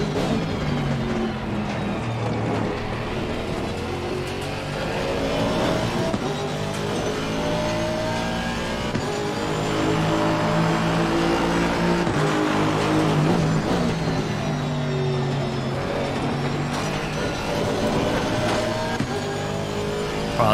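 A GT3 or GT4 race car engine in Assetto Corsa Competizione at Oulton Park drones loud and continuous, with shifting pitch as it revs and shifts through the gears.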